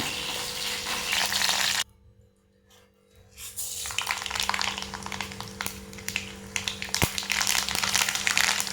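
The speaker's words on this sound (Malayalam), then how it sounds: "നമുക്കിതിലേക്ക് വറുത്തിടാം" Spices for sambar tempering hit hot oil in a pan: after a brief quiet pause, a dense, steady sizzling and crackling frying sound builds and continues close up, with occasional spoon clinks.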